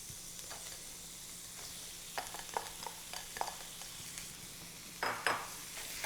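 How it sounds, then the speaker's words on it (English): Spicy turkey sausage browning in a pan over medium-high heat gives a steady low sizzle, broken by scattered scraping and clinking as the meat is stirred and broken up, with louder bursts near the end. "brown the spicy turkey sausage, also in the same medium-high heat"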